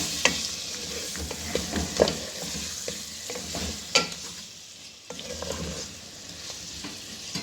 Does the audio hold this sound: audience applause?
no